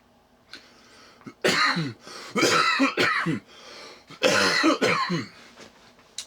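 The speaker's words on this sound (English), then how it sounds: "That's an honest cough." Several harsh, close coughs come in two bursts with a short pause between, loud and dry.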